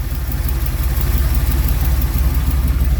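An old Ford engine with a badly worn exhaust runs steadily close by, a loud, throbbing low rumble with a slightly uneven, pulsing beat and no voices over it.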